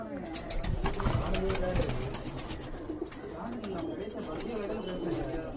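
Fancy pigeons coo in a pigeon loft, soft low throaty calls repeating over a busy background, with someone speaking throughout and occasional bird chatter.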